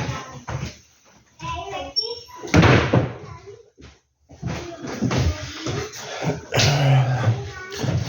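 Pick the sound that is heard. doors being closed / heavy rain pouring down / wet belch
doors being closed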